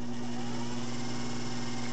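A GE electric motor runs at full power, giving a steady, close, continuous hum with a strong tonal drone and a whirring, even buzz throughout, with no voices.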